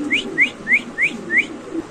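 Indonesian beauty pigeons give a repeated series of five short rising whistle-like calls at an even, quick rhythm, fairly close and clear over a low steady background murmur.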